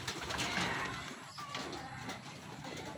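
Racing pigeons back at their home loft after a hard derby race near Vigan, Ilocos, coo steadily in the afternoon, a soft continuous murmur of several birds close by with no one talking.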